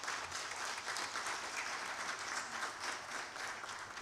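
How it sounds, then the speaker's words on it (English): Delegates at a general assembly of African parliamentary speakers and presidents applaud their hosts, a steady, dense round of clapping from a large hall audience, moderately loud and unbroken. "Please, I think they deserve a round of applause."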